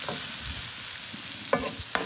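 Onion, chile and bacon fry in a pan while being stirred, a soft steady sizzle with a couple of sharp spoon scrapes and clicks near the end.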